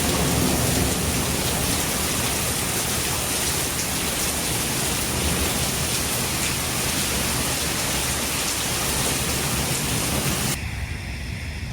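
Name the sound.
thunderstorm with heavy rain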